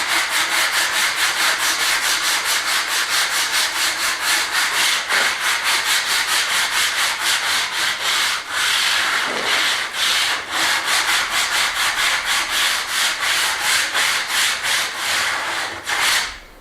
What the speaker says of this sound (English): give them a good sand down now. Try it by hand, they should go by hand alright.